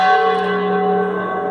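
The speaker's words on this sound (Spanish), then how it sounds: "Acaba de sonar la campana." Church bells ring with a steady, sustained metallic tone and long overlapping overtones, loud and close, with no talking over them.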